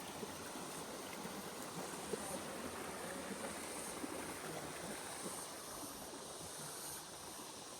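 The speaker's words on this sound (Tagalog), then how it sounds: "Ganda ng ilog dito." A river flows steadily nearby, a dense continuous rushing and hissing of water with no pauses and no voices over it.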